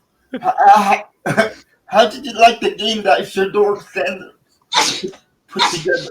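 A sharp sneeze cuts in near the end of a stretch of steady conversational speech, with a second short burst right after it. The voices are close and clear.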